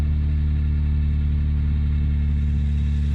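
A third-generation Honda Prelude engine idling fast just after a cold start, a steady, loud mechanical hum with no pauses, close by and alone.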